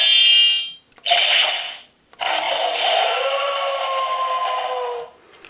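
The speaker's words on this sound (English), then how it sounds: "On its own, it's got a sequence of 4 attacking sounds." A DX Wolf Decalibur toy sword from Gozyuger plays electronic attack effects: a loud synthetic tone, then two longer buzzing, sweeping bursts separated by short gaps, all close and without voices.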